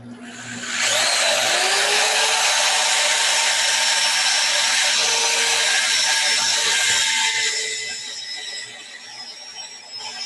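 Sanding a small wooden birdhouse ornament with a 120-grit gouge produces a loud, steady whirring grind lasting several seconds, easing off slightly near the end, alone without talk.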